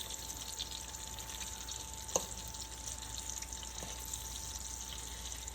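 Eggplant frying in a pan of oil, a soft continuous sizzle with a faint steady tone and a couple of small clicks, quiet and alone.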